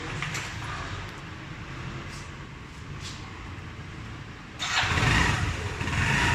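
A 2018 Yamaha Fascino scooter engine idles steadily after an oil change, then catches and revs louder near the end, running close by with no talking.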